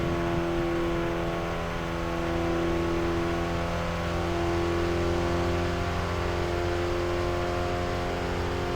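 A race car engine in the RevHead video game drones steadily through a lap at Gutta Raceway, holding a sustained, even pitch with layered harmonic whine and no breaks.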